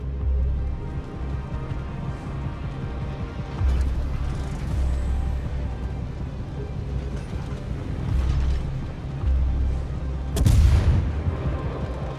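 A British cruiser, HMS London, fires its guns in World of Warships. Heavy booms roll under steady mechanical rumble, with a sharp loud salvo near the end, close and without talk.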